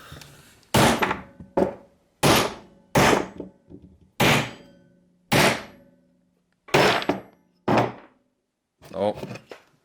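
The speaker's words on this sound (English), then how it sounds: "I guess let's smash it with a hammer" Roughly eight heavy hammer blows smashing a failed handmade kiridashi knife, loud close impacts at uneven intervals, each ringing briefly before silence.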